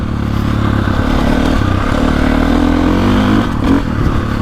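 A KTM 450 Factory Edition or Gas Gas MC450 dirt bike engine roars loud and close, holding a steady, smooth throttle roll-on with a gradual pitch rise and some chassis clatter.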